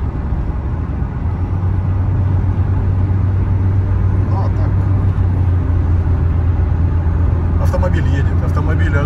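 A 1999 Hyundai Lantra with a 1.6 engine drives along, its steady low engine drone continuous and close throughout, with faint rattles creeping in near the end.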